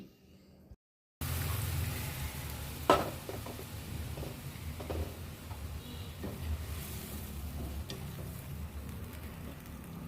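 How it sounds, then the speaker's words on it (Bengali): Carrots frying in a pan for carrot kheer are stirred with a utensil, giving soft sizzling and occasional scraping knocks, steady and close after a brief silent start. "নাড়াচাড়া করতে করতে যখন গাজরের কালারটা চেঞ্জ হয়ে যাবে"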